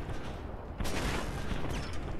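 Gunfire in the video game Fallout London: a dense burst of shots and mechanical clatter, loud and continuous for about two seconds, with no talking.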